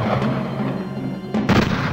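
Musket volley as British troops open fire, a booming crack of massed shots over a low rumbling battle backdrop, followed by a second louder burst near the end.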